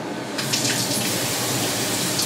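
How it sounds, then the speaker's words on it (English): Water runs steadily from an additional faucet in a middle school cafeteria kitchen, a constant close gush that starts abruptly and continues without a break and with no voices. "Just an additional faucet."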